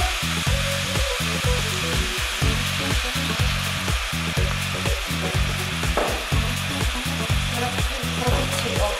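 Oil and meat sizzle loudly and steadily in a pan for Sicilian ragù, with a dense continuous crackle and rhythmic stirring scrapes throughout.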